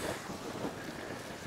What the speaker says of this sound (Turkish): Şu rüzgar var ya, of.